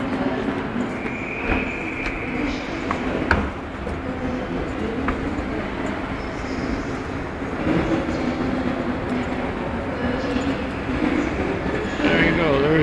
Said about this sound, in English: And there's a bullet train.